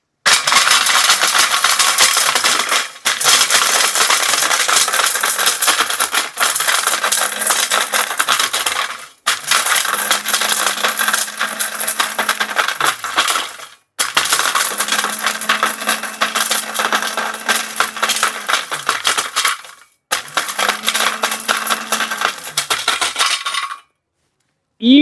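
Fuma Panther 3-in-1 mixer grinder pulverizing brick into powder, loud harsh crushing rattle over a motor whine, running in five bursts separated by brief stops.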